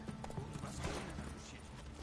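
A horse gallops up on call in the video game The Witcher 3, rapid clip-clop hoofbeats with a faint whinny, moderately loud over game ambience.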